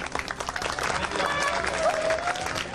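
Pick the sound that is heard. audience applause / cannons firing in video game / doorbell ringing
audience applause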